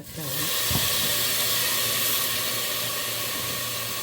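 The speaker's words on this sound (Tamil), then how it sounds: "பெரிய தக்காளி போட்டேன்." Tomatoes drop into a hot pan with curry leaves and green chillies for egg semiya, and a loud, steady hiss of sizzling steam follows a brief thump, holding on without break and with no talk.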